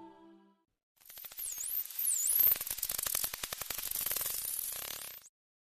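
Dolphin sounds: high-pitched, sweeping whistles alongside dense, rapid clicking, loud and steady for about four seconds before cutting off.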